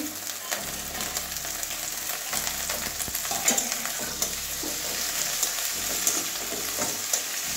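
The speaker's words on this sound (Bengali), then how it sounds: "আদা রসুনের কাঁচা গন্ধ যাওয়া পর্যন্ত ভাজবো।" Chopped garlic and ginger sizzle and crackle steadily with already-fried onion in a hot pan, close up, with occasional stirring clicks and scrapes throughout.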